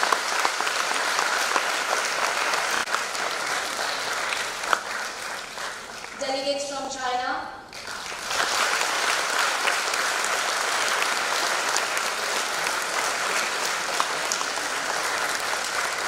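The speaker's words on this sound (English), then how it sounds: "please let's give them a big round of applause" Sustained, loud applause from a conference audience welcoming foreign delegates at the Kathmandu Dialogue opening ceremony, continuous dense clapping that dips only briefly while an announcer's voice calls out a delegation.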